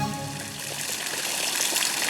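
Water gushes onto a blaze in a Hindi cartoon, a steady broadband rush of pouring and splashing that holds for about two seconds with no break.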